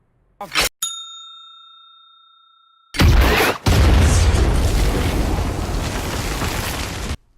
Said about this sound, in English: Tragically steps on a landmine during Daenerys' conquest of the faraway land of Normandy